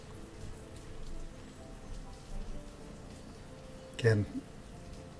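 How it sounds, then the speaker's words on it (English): Cold rain falls in the town-building video game Banished, a steady soft hiss of rainfall in the background with a person talking over it throughout. "And a cold rain has come in."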